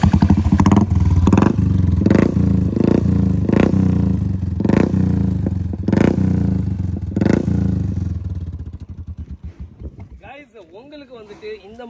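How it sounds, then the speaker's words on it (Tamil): Royal Enfield Bullet with a modified exhaust revs loudly and close, with several sharp throttle blips over a deep thumping idle before the engine settles down near the end. "அண்ட் இந்த வண்டியில் எக்ஸாஸ்ட் போட் ஸ்டார்ட் பண்ணி காட்டுறேன் எப்படி இருக்குன்னு பாருங்கள்."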